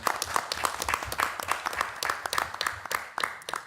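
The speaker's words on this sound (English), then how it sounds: "I think we should give them a round of applause." An audience at an art seminar on concrete art claps together in steady, dense applause for several seconds, with no voices over it.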